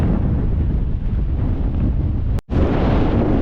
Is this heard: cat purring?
no